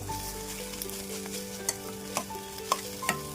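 Eggs frying in oil in a pan give a soft, steady sizzle. Several sharp clinks of stirring cut through it, and a sustained musical tone plays in the background.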